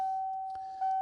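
A Ford 7.3 diesel truck's key-on warning chime rings inside the cab, a steady high electronic tone held throughout with a faint click partway and no talking.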